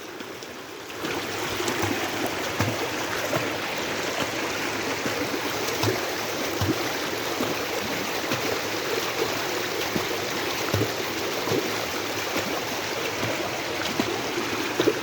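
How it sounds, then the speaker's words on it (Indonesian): Steady rushing flow of a river stream running low in a dry season, continuous broadband water noise with small gurgles, close and even throughout with no voices. "arus derasnya cukup lumayan, karena sungai ini lagi kering"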